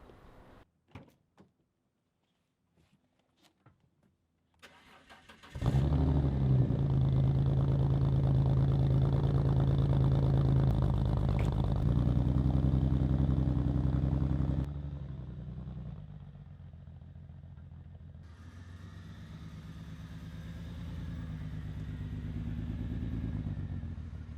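A broken BMW E46 is started after a few quiet clicks and knocks. The engine catches loudly, runs strong for several seconds, then drops to a steadier, quieter idle.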